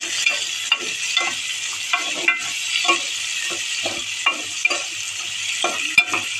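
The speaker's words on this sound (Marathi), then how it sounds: "कांदा चांगला भाजून घ्यायचा" Onions fry in oil with cinnamon, cardamom, cloves and green chillies for egg biryani, a steady bright sizzle punctuated by rhythmic scraping strokes of a stirring spoon about once a second.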